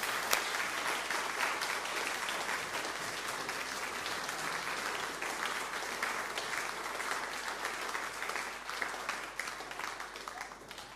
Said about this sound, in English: I think that we should give them all a big clap